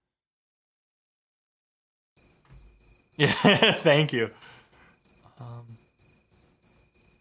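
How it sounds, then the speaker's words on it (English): Cricket chirping in steady, evenly spaced pulses, loud and close, running for several seconds; someone speaks briefly over it partway through. "that was an exhausting cricket sound"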